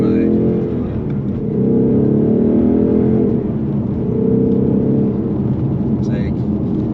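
Ford Mustang Mach 1 exhaust set to track mode, a steady low growl from inside the car while cruising, rising and easing slightly, with a person talking over it.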